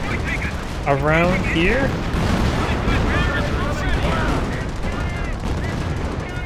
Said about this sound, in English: 25-pounder is barraging over here.